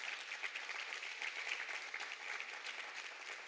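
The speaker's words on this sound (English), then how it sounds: "let us just give them a round of applause" Faint, distant applause from an audience honoring top award winners at a regional awards ceremony, a soft continuous patter of clapping that stays even and quiet throughout.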